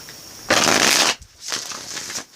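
An Egyptian tarot deck is riffled close and loud in one burst of shuffling, followed by a couple of softer card slides.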